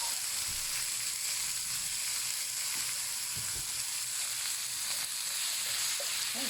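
Mincemeat frying with onions in a pan for South African pap, a steady close sizzle throughout with a few soft stirring knocks.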